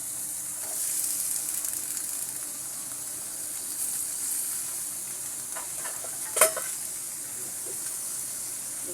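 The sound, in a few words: thin-sliced potatoes added to frying rohu fish and stirred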